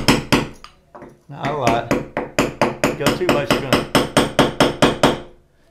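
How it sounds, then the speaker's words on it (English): A small awl punch is tapped into bathroom wall tile to start a hole for a grab bar. About twenty sharp, ringing hard taps come close and loud in a steady, quickening rhythm, with a brief spoken remark near the start. "I just happen to have this little awl punch here"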